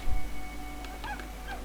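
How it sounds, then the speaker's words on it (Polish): In Brothers: A Tale of Two Sons, a cat meows a couple of short, high, wavering calls, moderately loud over a steady low ambient hum, with a soft thump at the start. "O, tu mamy kotka"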